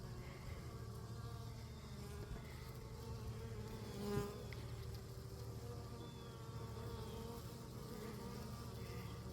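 Honey bees from a swarm buzz around a hive entrance, a dense, continuous droning hum of many insects close by, steady throughout with one brief louder swell.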